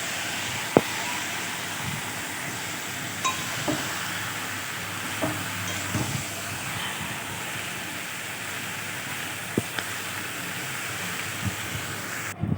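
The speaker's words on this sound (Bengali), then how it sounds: "মাংসটা বেশ খানিক্ষণ কষাবো" Country chicken meat frying in a pan, a continuous, fairly loud sizzle running throughout, broken by scattered utensil knocks and scrapes as the meat is stirred, with no voices.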